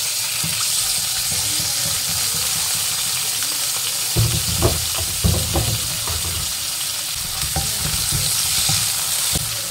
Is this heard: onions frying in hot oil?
yes